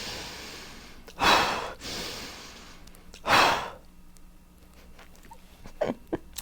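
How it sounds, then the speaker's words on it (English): Deep rhythmic breathing in the Wim Hof method, two loud close inhale-exhale cycles a couple of seconds apart followed by quieter, shorter breaths. "the actual example for Wim Hof breathing would be"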